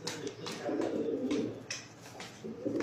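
Pigeons at a home loft coo in deep, rolling calls, several overlapping bursts close by and fairly soft, with no talk.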